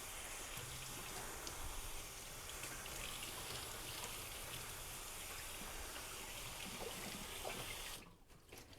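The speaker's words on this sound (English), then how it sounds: "I'm gonna get my shirt wet." Tap water gushes steadily into a sink to dampen a shirt for tie-dyeing, a continuous close rush that runs for about eight seconds before the flow stops abruptly.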